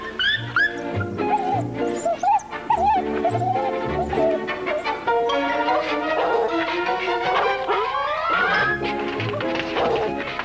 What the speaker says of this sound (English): Reba, when are you going to feed this dog?